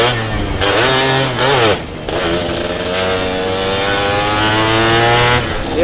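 Two-stroke motorcycles on a Sunday morning group ride rev hard and pull away, loud rising and falling engine wails with crackling bursts, close by and continuous.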